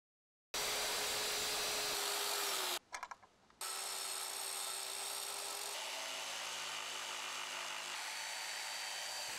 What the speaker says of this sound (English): on the front piece of the box, drill 4 holes